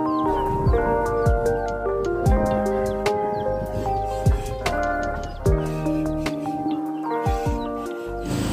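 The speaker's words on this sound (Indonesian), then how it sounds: "ini mama ayam yang punya anak ayam satu yang baru netes juga" A mother hen with a newly hatched chick clucks in short repeated bursts close by, with other fowl calls scattered through a busy farmyard and a few sharp knocks.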